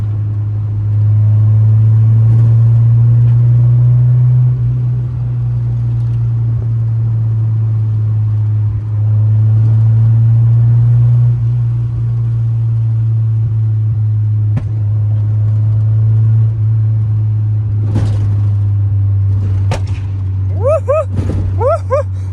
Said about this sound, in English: I think I fixed it, but for some reason it's backfiring.